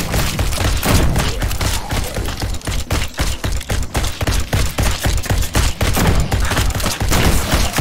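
Shotgun fire in the tower-defence shooter GROSS comes as a loud, rapid stream of booming blasts, one after another with barely a pause, dense and close throughout.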